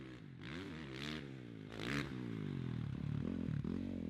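A motocross bike sweeps into a corner, its engine note rising and falling, then easing off as it coasts in without rear brake. The engine sounds close, steady and loud, with no talking.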